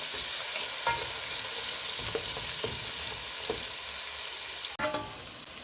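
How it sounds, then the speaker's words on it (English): A mutton curry base seasoned with fine salt fries in a pan with a continuous loud sizzle, punctuated by several light scrapes and taps of a stirring spoon, then a sudden sharp drop near the end. "I'll let it fry all"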